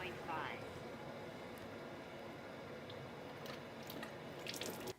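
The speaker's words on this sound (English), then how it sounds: "Running my cold water again." Cold tap water running into a Kangen SD501 water ionizer, a quiet steady rushing flow with a few brief splashy bits.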